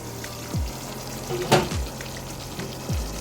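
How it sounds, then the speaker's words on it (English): Brinjal gravy (ennai kathirikai kulambu) cooking in a pot on the stove, a soft steady frying crackle with a brief louder spurt in the middle and a few low thuds. "After adding the brinjal, I cooked the gravy for about 2 minutes."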